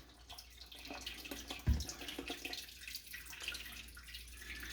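Soy milk is poured slowly into a container while making homemade tofu with nigari, giving a soft, continuous liquid trickle and splash close by, with one brief bump.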